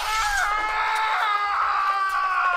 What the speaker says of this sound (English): I never heard that scream before.